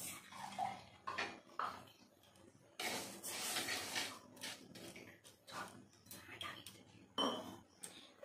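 A spatula scrapes and clinks against a kadai on a gas stove as a cup of sugar is stirred toward caramel, with irregular metallic scrapes and taps heard up close and no talk.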